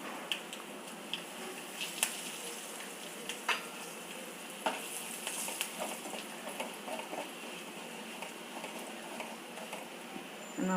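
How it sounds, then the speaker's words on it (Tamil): Mustard seeds, urad dal, asafoetida and curry leaves fry in hot oil, a steady crackling sizzle with scattered sharp pops and spatters throughout, close and unaccompanied by speech. "நல்லா வதக்கி விட்டோம்."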